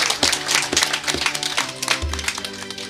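A church congregation claps for the religious profession of new brothers taking vows in the Congregation of the Mission of St. Vincent: steady, rhythmic clapping in pulsing bursts over a low, sustained musical tone, with no voices.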